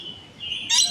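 A bird gives a short, bright chirp, a thin sustained whistle that ends in a louder, sharper burst, heard alone and fairly close.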